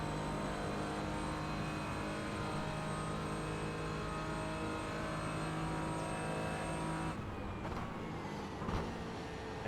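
Porsche Cayman GT4 on track at Watkins Glen, racing game engine holding a loud steady high-revving drone with whining harmonics, then dropping off sharply as it lifts, followed by a few faint clunks.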